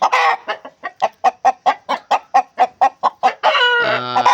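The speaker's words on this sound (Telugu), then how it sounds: "ఒక పెట్ట ఒక పుంజు అమ్మకానికి అయితే తీసుకొచ్చానండి" A hen and a rooster of the Maila breed kept on a farm and offered for sale cluck in a rapid rhythmic series of about a dozen loud, close calls, ending in a longer squawk.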